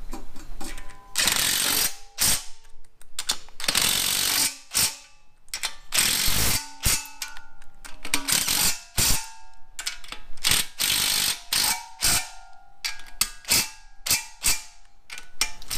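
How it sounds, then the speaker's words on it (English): A ratchet tightens the nuts on an F-Body oil pan and windage tray on an LS iron-block engine, with bursts of quick metallic clicks separated by short pauses, close and fairly loud, with no talking. "Let me quick get these on and then I'll torque them down."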